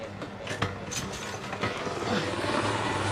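Police helicopter circling over an area during a large immigration raid in Malaysia, a steady broad rotor and engine rumble overhead, moderately loud and continuous with no talk.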